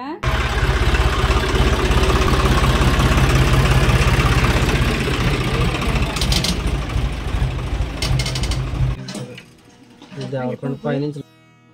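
A farm tractor that has just hauled sacks of grain home to a village idles loudly with a heavy low throbbing rumble, then the engine cuts off and only faint clinks and brief sounds remain.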